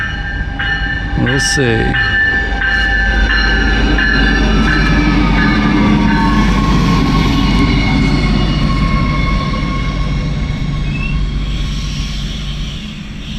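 A River Line light rail train sits at a station platform in New Jersey, its loud steady hum filling the air after a short horn sounding near the start, with a brief spoken remark.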